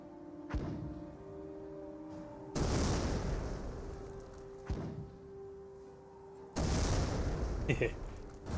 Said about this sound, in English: we do got the 60mm mortar trying to hit the Grenadier